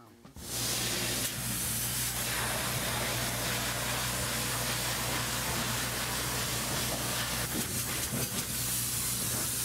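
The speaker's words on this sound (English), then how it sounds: "put on a spray foam clinic" A steady, loud hiss of spray foam being applied runs continuously from start to finish, with a low hum underneath.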